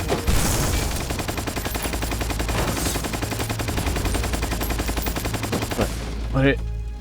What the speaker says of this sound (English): That gun fires bullets weird.